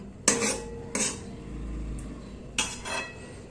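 Metal plates clatter on a kitchen counter in three quick bursts of ringing clinks, close and fairly loud, with short quiet gaps between them.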